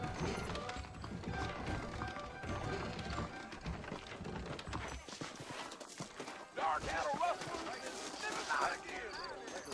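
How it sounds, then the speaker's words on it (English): Hooves of saddled horses clop steadily along at a walking pace in the video game Red Dead Redemption, faint beneath talking voices and a busy outdoor backdrop. "I got the horses saddled up and ready out front."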